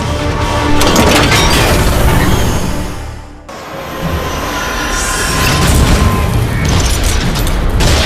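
Heavy fire strikes a Decepticon ship in a Transformers cartoon battle, setting off explosive impacts. Loud, close booming rumble rolls on, dips briefly midway, then surges back with crackling debris and no voices.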